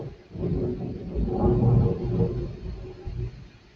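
Thunder rumbles outside during a storm in Arizona, a low, muffled roll that swells in the middle and fades away, distant and fairly soft, with no talking.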